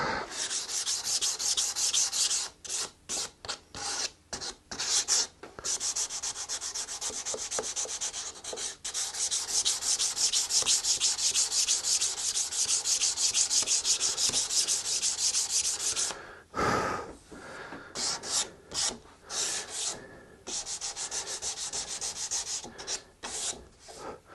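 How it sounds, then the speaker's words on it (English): Rapid back-and-forth scraping of a sanding block on a wooden guitar headstock inlay, loud and close, broken by short pauses and one longer gap near the end. "Switch to a different sanding block"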